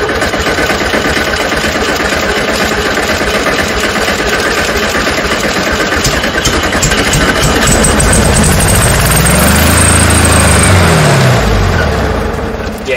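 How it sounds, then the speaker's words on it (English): A 1972 VW Super Beetle engine cranks and runs after sitting more than 30 years, a loud close rough churning that holds steady, then rises in pitch and dies away near the end. "Go ahead and turn it on and crank."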